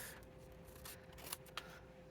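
Scissors trimming the edge of a paper scrapbook page, a faint close series of soft snips with two crisper cuts.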